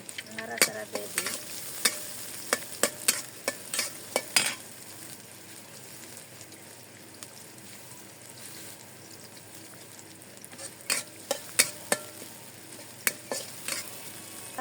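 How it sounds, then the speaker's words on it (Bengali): Chopped onion and chili fry in hot oil, a soft continuous sizzle punctuated by sharp scrapes and clinks of a spoon stirring against the pan, clustered at the start and again near the end. "পেঁয়াজ কুচি আর মরিচ কুচি দিয়ে দিলাম। নাড়াচাড়া দিয়ে দিই।"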